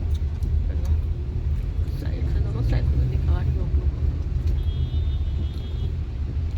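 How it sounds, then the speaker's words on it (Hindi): Heavy, slow-moving road traffic in an Indian city gives off a constant low rumble of car and bus engines close by, with a few faint horn-like tones, while someone talks over it throughout. "देखो कितना ट्रैफिक है, कितने धीरे धीरे हम लोग जा रहे हैं।"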